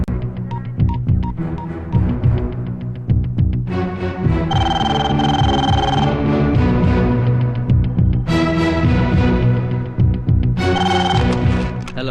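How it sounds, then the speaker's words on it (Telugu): A telephone rings in a Telugu film scene, its electronic tone sounding in several repeated bursts over loud background music. "చివరిసారిగా గీతకు ఫోన్ చేయరా."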